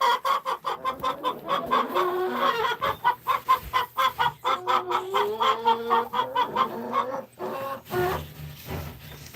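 A Barred Rock hen clucks close by at a nesting box, a rapid, rhythmic series of sharp clucks and drawn-out squawks, loud and with no voices over it.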